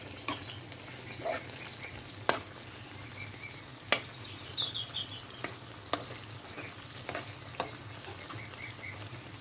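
Steady frying sizzle of onions in a pan on a stove with occasional clicks and light stirring scrapes, fairly quiet and continuous.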